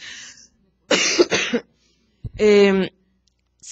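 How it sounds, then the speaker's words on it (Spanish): Two harsh, raspy coughs from a month-long cough, close to the microphone, the first a quick double burst and the second a longer, rougher hack, separated by a short silence. "tengo una tos desde hace un mes terrible"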